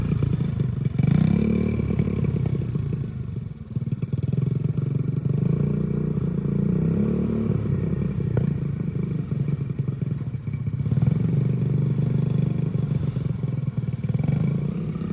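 A 1985 Honda ATC70 three-wheeler upgraded with a 125cc engine being ridden, its small single-cylinder motor droning steadily and close, with rises and dips in revs and mechanical clatter throughout.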